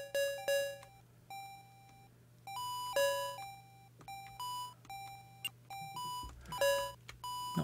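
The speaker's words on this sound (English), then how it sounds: "What are you beeping me for?" Beeps from a ColecoVision video game, a quick series of short electronic tones at varying pitches over a steady low hum, some in rapid clusters, with no talk.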